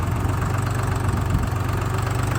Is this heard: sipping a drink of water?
no